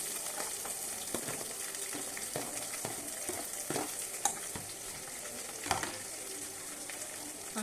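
Curry leaves and vegetables fry in a pan with salt, a soft, continuous crackling sizzle punctuated by repeated stirring scrapes and a couple of louder knocks.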